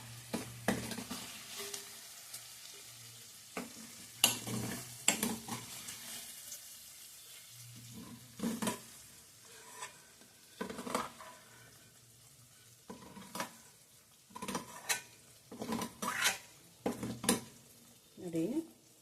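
Paneer cubes frying in butter and oil in a pan for dhaba-style palak paneer give a soft, low sizzle, broken by sharp clinks and scrapes of a spoon turning the pieces against the pan, with brief quiet gaps between.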